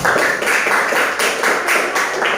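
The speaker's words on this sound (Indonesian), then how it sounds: "kita kasih tepuk tangan untuk kelompok 1" A classroom of students claps for group 1 after a presentation, loud close applause pulsing in several quick rhythmic bursts throughout.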